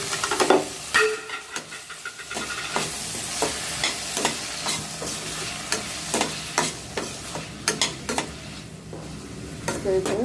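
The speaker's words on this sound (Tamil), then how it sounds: "நல்லா வதக்கி கொண்டு கொஞ்ச நேரம் வதக்கியே கொடுக்கலாம்" Tomato, chayote and vegetables sautéing in coconut oil for a coconut-milk curry, a close sizzle broken by frequent scraping stirs of a spoon against the pan, irregular and lively throughout.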